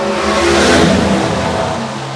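Gasser drag race cars launching side by side at a dragway, front wheels lifting, with a loud, sustained roar of revving engines that swells near the middle and then slowly eases off.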